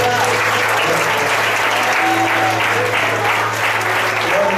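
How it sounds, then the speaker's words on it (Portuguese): A church congregation at a youth congress claps steadily in a sustained round of applause, loud and dense, with a low steady hum beneath and faint voices mixed in. "Dê mais um aplauso para eles."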